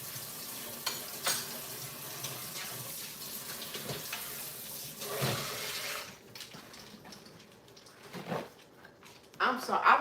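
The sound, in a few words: washing the air fryer tray under running water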